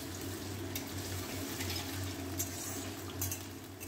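Diced potatoes fry in oil in a pan for a Bengali jhinge aloo posto, giving a steady, close sizzling hiss with occasional soft clinks of a utensil against the pan.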